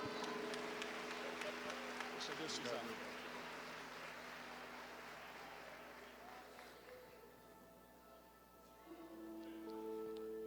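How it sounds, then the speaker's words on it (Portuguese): A church convention crowd applauds a preacher onto the stage at a morning session, broad dense clapping strongest at the start, easing through the middle and swelling again near the end, with music tones beneath. "Receba com alegria uma forte salva de palmas"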